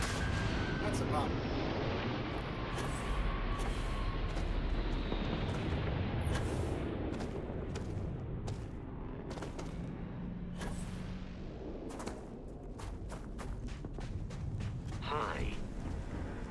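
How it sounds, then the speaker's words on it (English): Deep explosive booms and rumbling blasts from the video game Starfield, layered with sharp impacts and crackling debris over a sustained roar, loud and close throughout with no voices. "Oh, that's a bomb."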